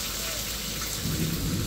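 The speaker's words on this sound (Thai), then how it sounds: "อยู่ที่นี่มันฝนตกนะคะเมื่อวานก็ตกค่ะ" Steady, dense rain pours down outdoors in a continuous hiss, with a low rumble building under it toward the end.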